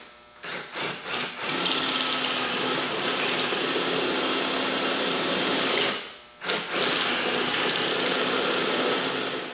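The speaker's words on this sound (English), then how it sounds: "we're going to be drilling it out to put this nutsert in" A power drill boring out a hole to fit a nutsert for a truck light bar install, with a few short trigger bursts and then a long, loud, steady whine that pauses briefly before resuming.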